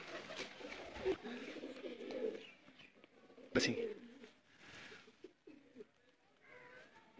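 Rampuri breed pigeons coo softly at a breeder's loft in Sialkot, low throaty murmurs recurring through the clip, faint and close, mixed with someone talking.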